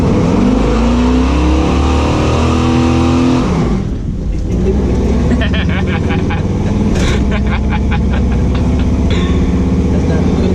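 A cammed Chevrolet C10 pickup truck engine runs loud and close, revving and surging with a deep, rough throb that dips briefly before roaring back.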